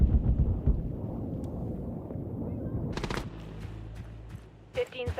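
Rapid gunfire and explosive bursts from the Metal Gear Solid video game fill the opening seconds densely, then thin out into scattered shots over an ongoing background rumble.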